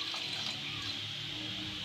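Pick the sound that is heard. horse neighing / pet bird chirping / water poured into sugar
water poured into sugar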